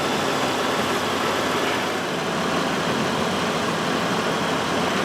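A 2007 Buick Lucerne's 3.8 engine idles while warming up, a loud, steady, unbroken drone close by with no change in pace and no voices.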